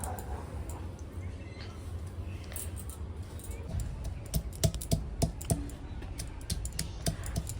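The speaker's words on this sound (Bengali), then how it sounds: "দেখো এখন আদা রসুন পিসে নিচ্ছে না পিসছে না থ্যাদলাচ্ছে সিলে ফেলে" Ginger and garlic are crushed on a grinding stone, producing a run of sharp, close knocking taps, sparse at first then quicker and clustered, over a faint murmur of background noise.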